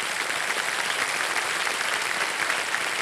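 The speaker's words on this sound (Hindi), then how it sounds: "ताली बज जाए इनके लिए" Dense applause from a game show studio audience fills the room, steady and sustained throughout with no speech over it.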